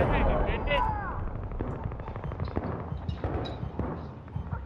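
Battlefield-style video game combat on the Seine Crossing conquest map: rapid gunfire cracks and explosion booms rattling throughout, fairly loud, with players talking over the fighting.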